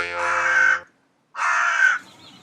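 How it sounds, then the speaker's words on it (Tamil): A crow gives two loud, close caws, each about three-quarters of a second long and harsh, separated by a short silence. "காக்கா கா கான்னு சொல்லிட்டு போகுது"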